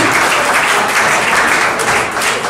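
Steady audience applause fills the room, loud and continuous for a couple of seconds with no voices over it.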